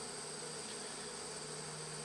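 Honey bees hum around an opened, modified Warre hive, a faint, steady buzzing drone without pauses.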